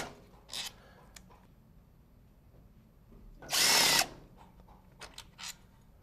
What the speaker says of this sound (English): we're going to remove the B2 housing to case support bolts here.